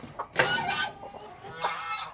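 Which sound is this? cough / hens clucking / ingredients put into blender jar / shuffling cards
hens clucking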